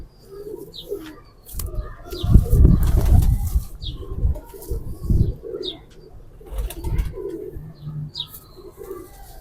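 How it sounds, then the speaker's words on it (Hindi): Sabz Chena pigeons coo in repeated low phrases close by, with bursts of wing flapping and rustling, plus occasional high chirps from other birds. "ये प्रोफेसर साहब के चीने कबूतर हैं।"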